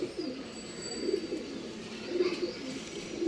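Pigeons kept as a breeding pair for sale, a female among them, coo softly and repeatedly at close range against faint background noise, with no talking.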